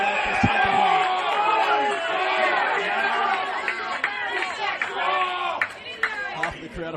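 Crowd at a community Australian rules football match between Old Carey and Williamstown CYMS murmurs and chatters in a steady, moderately loud wash of many voices.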